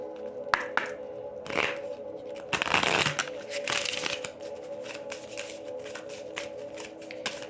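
Tarot romance cards are shuffled up close, a run of crisp riffling and flicking with a louder burst partway through, over a steady low hum.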